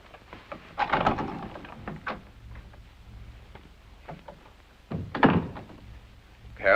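Heavy fists pound on a wooden door in a 1952 comedy, coming in rough bursts of thuds with gaps between, close and fairly loud, with no talking.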